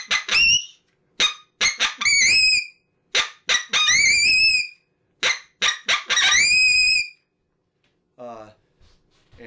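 Reed predator call blown near the tip to mimic a coyote pup, producing loud close yips and short high whining howls in quick bursts, ending with a faint trailing squeal.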